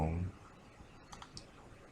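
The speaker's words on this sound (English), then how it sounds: "And you just keep left clicking." Left mouse button on a computer mouse clicking in short, light, separate taps during CAD modeling work, quiet and close, following a brief voice at the start.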